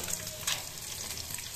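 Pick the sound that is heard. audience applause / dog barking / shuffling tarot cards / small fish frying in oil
small fish frying in oil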